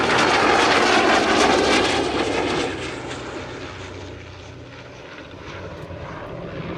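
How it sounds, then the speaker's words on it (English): At a Shuttleworth flying display, a DH-88 Comet and an F-86 Sabre pass in formation with a loud, steady engine roar that slowly fades as they move away. "DH-88 Comet in formation with the F-86 Sabre."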